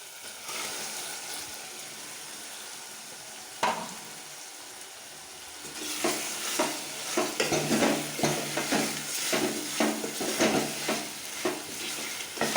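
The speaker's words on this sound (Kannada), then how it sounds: "ಇದನ್ನು ಒಂದು 5 ನಿಮಿಷ ಹೈ ಫ್ಲೇಮಲ್ಲೇ ಇಟ್ಕೊಂಡು ಫ್ರೈ ಮಾಡ್ತೀವಿ." Chicken fries for curry in a pan on high flame, a soft sizzle that jumps to loud, rhythmic stirring and scraping with spattering bursts after a quiet start.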